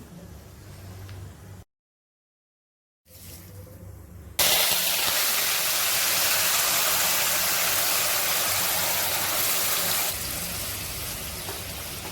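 Spices sizzling in hot oil in a wok for a crab dish, a loud steady hiss that starts abruptly and holds evenly for several seconds before easing slightly, after a brief silence and quieter background.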